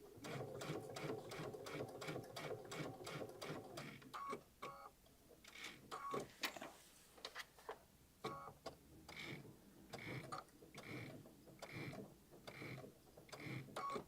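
Sewing machine stitching a zigzag along a fabric edge, a fast, even mechanical chatter up close that stops briefly midway, then returns in shorter bursts with small pauses.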